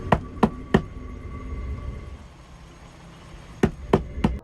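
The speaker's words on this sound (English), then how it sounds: "Out of nowhere, 2 loud knocks echoed through her van." Sharp knocks strike a camper van door in two bursts of three evenly spaced raps, loud and close, separated by a quieter stretch of low background noise.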